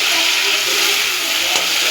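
Drumstick pieces sautéing in a pan with ground mustard, poppy seed, turmeric and salt give a steady, loud broadband sizzle and hiss that runs unbroken throughout.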